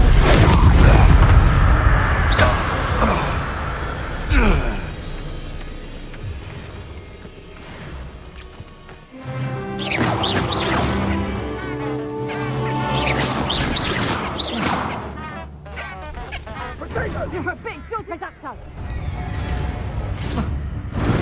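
Confringo and Incendio spell blasts boom and crash in the Hogwarts Legacy video game, repeated explosive hits with whooshes and clattering impacts amid a busy combat soundscape, loud and close.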